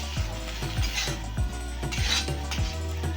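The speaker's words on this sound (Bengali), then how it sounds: "চিংড়ি মাছটা দিয়েও খুব ভালোভাবে নাড়াচাড়া করে রান্না করে নেব আর এটাকে অনবরত এভাবে খুন্তির সাহায্যে নাড়াচাড়া করবেন" Metal spatula scraping and stirring fried prawns through a ridge gourd peel paste in a pan, a steady rhythm of repeated scrapes and clacks, close and fairly loud, with no talking.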